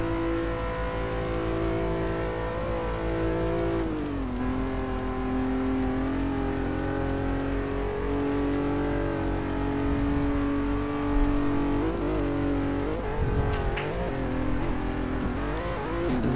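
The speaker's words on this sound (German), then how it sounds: "Das war der Lancia Stratos." A Lancia Stratos driving offroad in Test Drive Unlimited 2, with a continuous loud engine drone. The pitch dips once, then holds steady, and there is some rattling toward the end.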